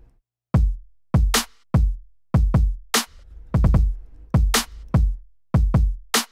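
A drum beat with no ghost snare notes: punchy kicks and sharp snare hits in a steady groove, loud and close with no other sounds.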